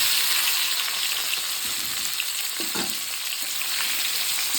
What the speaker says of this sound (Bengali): আমলকিগুলো দিয়ে একটু নাড়াচাড়া করবো।